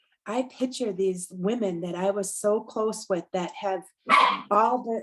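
Dogs bark repeatedly at a home during a November 2022 online coaching session. The sharp barks come through clearly, interspersed with someone talking over them.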